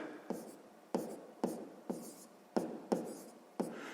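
A pen writes a calculation on paper with a steady run of about eight sharp, scratchy strokes at a brisk, even pace, each one close and distinct, in a quiet room.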